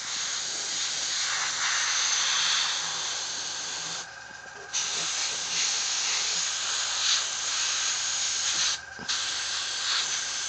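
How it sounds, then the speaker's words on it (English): Steady, close aerosol hiss from a spray can, sprayed continuously with two brief pauses where the spray stops. "I'm just going to spray some of this in there as well,"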